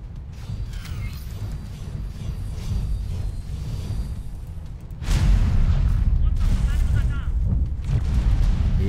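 A heavy, booming weapon shot in a space battle in the video game X4: Foundations bursts in loud about halfway through, following a steady low rumble of in-game noise.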